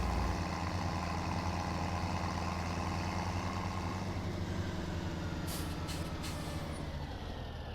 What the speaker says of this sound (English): hop on the tractor, and attach the trailer to it